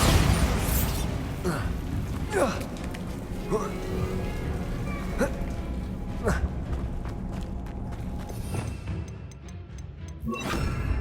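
Repeated booming spell blasts from the Bombarda charm in Hogwarts Legacy, several sharp bursts spaced a few seconds apart amid busy game noise, with a voice talking over them.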